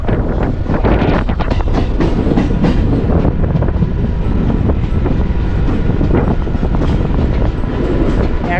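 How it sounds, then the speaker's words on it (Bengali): A train pulls into Shaktigarh station in East Bardhaman after a rain shower, a steady loud rumble of rolling carriages with rhythmic wheel clatter and wind buffeting throughout. "আমাদের ট্রেন এখন শক্তিগড় স্টেশনে সবে এন্ট্রি করছে"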